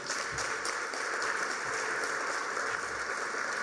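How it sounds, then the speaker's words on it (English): A crowd claps continuously at a gala, a dense, even wash of applause filling the room with no voices standing out. "give yourselves a big round of applause"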